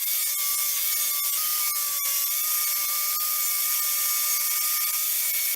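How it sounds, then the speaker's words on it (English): A strip disc, a tough Scotch-Brite-style abrasive wheel on a power tool, grinds paint off a metal fender apron plenum cover with a steady, loud, high whine throughout, broken by brief catches before it cuts off at the end. "it will just strip the paint off"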